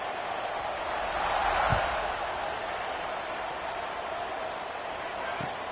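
A stadium crowd roaring steadily in a college football video game, a broad continuous wash of cheering with a couple of faint thumps and no clear talk over it.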